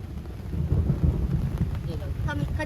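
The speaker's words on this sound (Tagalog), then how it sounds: "Ang lakas ng kulog." Loud rolling thunder rumbles over steady heavy rain at a family campsite during a rainstorm, the low boom swelling midway and then easing under continuous rain noise.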